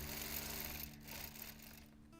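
A sewing machine doing free-motion quilting along a seam allowance, a faint, quick continuous whir of needle strokes that briefly pauses and resumes, with no voices.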